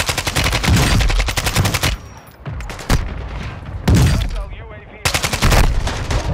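Rapid bursts of gunfire in Call of Duty zombies, a video game, loud and close, coming in several volleys separated by short pauses and echoing blasts.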